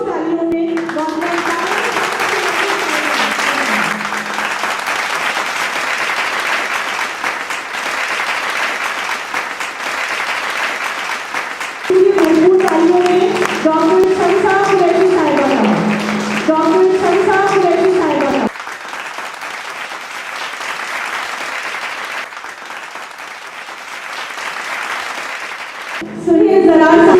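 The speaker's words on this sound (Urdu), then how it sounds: "استقبال کیجیے پرجوش تالیوں میں" Audience applause welcoming a poet at a Naatiya Mushaira, long sustained clapping from a large crowd that swells and fades in waves, with a voice announcing over it.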